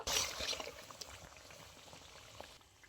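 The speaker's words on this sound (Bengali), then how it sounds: "তো একটু সময় নিয়ে হালকা আঁচে বড়াগুলো আমি ভেজে নেব।" Drumstick flower fritters frying slowly in oil over low heat, a quiet bubbling sizzle that is a bit stronger at the start and then fades to a faint, steady simmer, with no talk.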